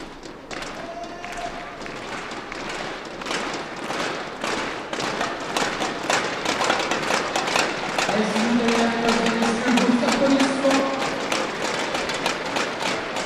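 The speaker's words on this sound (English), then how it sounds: "all the kids in the hall with the thunder sticks, banging them loud for their girl" Crowd of kids in a badminton hall at a women's singles semifinal of the 2014 French International bang thunder sticks in a steady rapid clatter of dense taps that builds louder through the clip, with cheering voices rising above.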